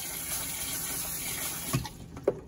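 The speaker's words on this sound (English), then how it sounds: "So you can just pour water in there like that." Water poured into a container while cleaning barber combs and brushes, a soft continuous splashing stream under light room noise, ending with a couple of sharp knocks or clinks near the close.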